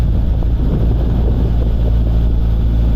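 A steady low narrowboat engine drone at about 1800 RPM runs throughout, with water wash and wind rumble around it, motoring along at an even pace with the tide on the tidal Thames.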